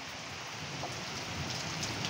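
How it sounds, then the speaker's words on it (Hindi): Heavy rain pours steadily over a terrace garden beside open fields, a dense continuous hiss with no pauses, close and fairly loud. "तेज बारिश आ रही है"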